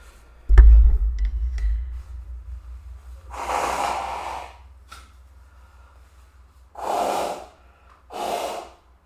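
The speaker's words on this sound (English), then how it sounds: "Listen to a man blow his nose." A man blowing his nose, several loud breathy bursts spaced apart, close to the listener, after a faint clack and low hum at the start.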